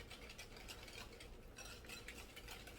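Banana pudding custard stirred in a pan on the stove with a utensil, steady soft scraping and swishing close by, with no talk.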